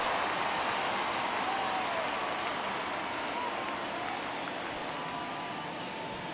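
Baseball stadium crowd at a ninth-inning one-run MLB game, a dense, loud continuous roar of cheering and applause that holds steady throughout and slowly eases, with no clear voice standing out.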